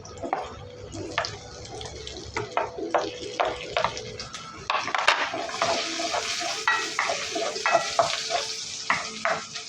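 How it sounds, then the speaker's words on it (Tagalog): Onions browning in a frying pan, stirred repeatedly with steady sizzling underneath; sharp scraping strokes of the utensil recur at an uneven rhythm, close and fairly loud, with a faint hiss of running water at times and no talking. "Kailangan natin mag-brown. Brown na dating sibuyas."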